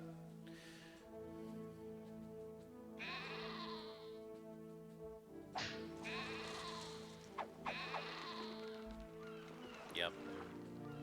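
Sheep bleat in the Caesar 3 city-building game, several short wavering cries spread across steady, droning in-game background tones.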